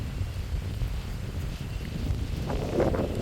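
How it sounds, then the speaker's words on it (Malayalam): Strong wind gusting across an open hilltop viewpoint at Ponmudi, a steady roaring rush that swells toward the end, with mist drifting past and no voices. "കണ്ട കോട പോണ പോക്കുണ്ടോ കാറ്റടി പോണ പോക്ക്"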